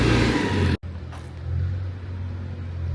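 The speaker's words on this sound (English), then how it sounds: "Again, I apologize for the construction sound." Construction work at the Colorado Railroad Museum: a loud, dense broadband roar cuts off abruptly, then a steady low engine-like rumble drones on close by with no voices.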